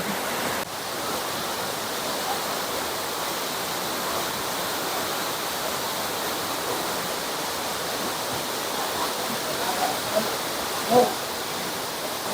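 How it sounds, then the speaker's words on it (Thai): Ko Luang waterfall in Mae Ping National Park gives a steady, broad rush of falling water. It is moderately loud and continuous, with a faint brief knock near the end. "ตอนนี้ก็ มาถึงจุดสุดท้ายนั่นคือ น้ำตกก้อหลวงแล้วนะครับ"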